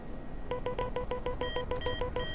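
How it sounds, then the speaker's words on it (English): Cockpit alert tones in a Dauphin helicopter in Microsoft Flight Simulator 2024 sound as a rapid, steady train of electronic beeps with layered higher chimes, over a constant engine hum. "there's all our gongs and alarms"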